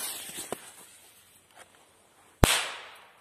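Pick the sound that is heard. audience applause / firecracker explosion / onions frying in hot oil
firecracker explosion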